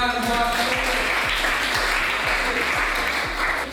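Classroom of students applauding together in dense, steady clapping that stays loud and even for the whole stretch, with a rhythmic low thumping beneath it.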